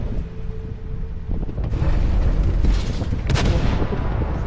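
Two booming tank cannon shots in World of Tanks, a duller one near the start and a sharper blast around the middle, over steady low battlefield rumble and wind-like noise.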